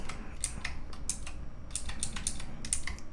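Typing on an optical mechanical keyboard with PBT keycaps and a metal backplate, a close, quiet stream of crisp irregular key clacks over soft background hiss.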